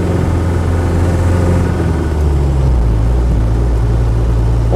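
Land Rover 90 pickup with a standard 2.5-litre diesel engine drives along at a steady, loud, continuous rumble, with the note dropping slightly partway through, no voices.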